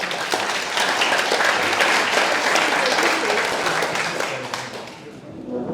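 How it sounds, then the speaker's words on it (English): An audience applauds in a sustained burst of clapping that gradually thins and fades toward the end. "Don't applaud until you've heard me speak."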